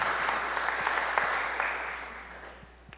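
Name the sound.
church congregation applauding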